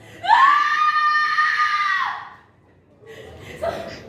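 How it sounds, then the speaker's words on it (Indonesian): One long, piercing, hysterical scream held for about two seconds, then a shorter strained cry after a pause. "hanya suara teriakan histeris yang mengisi kamar"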